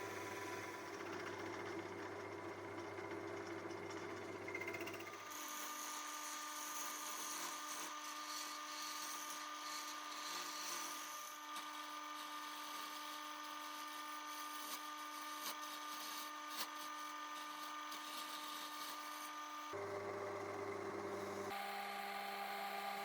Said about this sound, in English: It's on with the steady to drill out the centre of the cup with a Forstner bit.